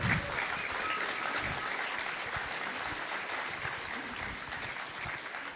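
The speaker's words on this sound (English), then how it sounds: "Give a big applause to him" A crowd applauds Tucker Carlson at an evening speech in Hungary, steady sustained clapping at moderate volume that fills the whole stretch and eases slightly toward the end.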